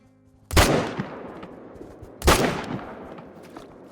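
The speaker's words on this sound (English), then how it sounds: "Okay, we did get the shot we wanted on him." Two loud rifle shots fired at a mule deer in the hunting game Call of the Wild, about two seconds apart, each a sharp crack followed by a long rolling echo that fades into quiet.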